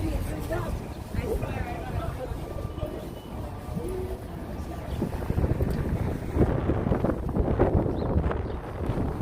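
Steady wind rumbling and buffeting against the microphone outdoors on a street in Bay Ridge, Brooklyn, New York City, while people talk underneath the gusts.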